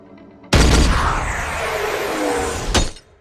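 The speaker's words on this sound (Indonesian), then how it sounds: "hampir saja Dayat mati terbunuh karena tembakan tadi" A sudden loud sniper gunshot blast in the film Police Story 2, followed by a long rumbling, crackling decay and a second sharp crack near the end, sounding cinematic.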